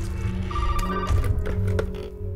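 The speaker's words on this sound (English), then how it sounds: "Let's answer the phone." An old-fashioned telephone bell ringing inside a safe-room house in the video game Resident Evil 7, loud repeated metallic trills over a low ambient drone, close with no talking.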